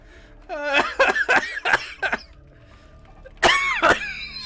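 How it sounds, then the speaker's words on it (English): Hard, harsh coughing in two bursts: a rapid run of four or five hacking coughs, a pause, then two more loud strained coughs, close to the microphone. "I coughed so hard my pulse started started hurting."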